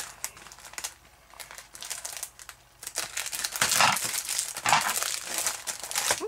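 Shiny gift wrapping paper crinkles and crumples in bursts, quiet at first and then growing louder and busier, with sharp rustling handling close to the microphone.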